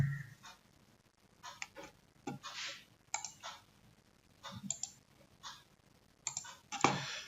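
Soft computer mouse clicks tap out in an irregular series of light clicks, close and quiet, during work in QGIS software with no speech over them.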